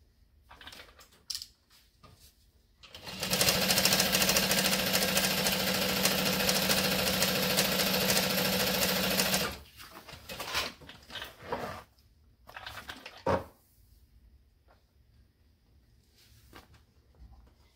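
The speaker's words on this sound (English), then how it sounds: "then we're going to top stitch on that lining side" A sewing machine top stitches along the lining side of a bucket bag, running steadily and close for about six seconds, with soft handling and fabric noises before and after and no talking.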